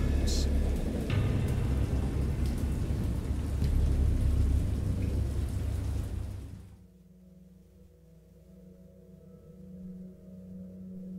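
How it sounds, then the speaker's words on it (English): Thunderstorm in the Dagon video game: a heavy, steady roar of rain with deep rumbling thunder for about six seconds, then cutting abruptly to a quiet low drone. "I heard pearls of thunder and other tones which nature utters only in her wildest moods."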